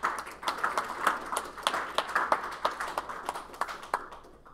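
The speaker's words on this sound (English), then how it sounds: "let's give another round of applause" Meetup audience applauding after a talk on graph databases and SQL, a steady patter of many hands clapping for several seconds, fairly distant in a room, tapering off near the end.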